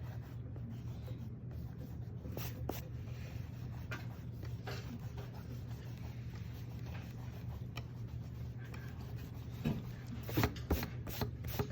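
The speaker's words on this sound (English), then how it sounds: "I'm gonna erase those too." Pencil lines rubbed out with an eraser on paper while inking a pumpkin drawing, a soft continuous scrubbing rasp with a few sharper strokes near the end, close and fairly quiet.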